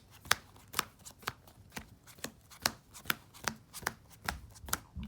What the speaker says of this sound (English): I'm just going to get a really, really good shuffle in with this deck.